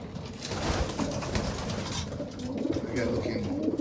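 Racing pigeons cooing at a pigeon loft, soft repeated low coos close by amid rustling and a steady background hum.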